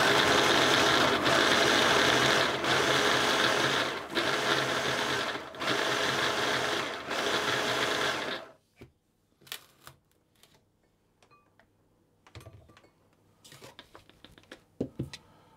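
A food processor blends plum crumble topping into coarse crumbs, giving loud, close pulses in an even rhythm for about eight seconds before it stops, leaving faint scattered clatter.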